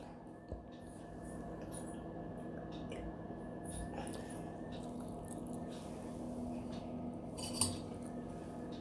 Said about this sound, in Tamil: நெக்ஸ்ட் இதில் நம்ம டீப் ஃப்ரை பண்ணி வச்சுருந்தா மஷ்ரூம் சேர்த்து மிக்ஸ் பண்ணிடலாம்